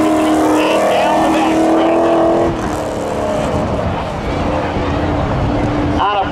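A Corvette roars off the line in spectator drag racing at Seekonk Speedway, its loud engine rising and then dropping at a gear change as it pulls away, while an announcer talks over the race.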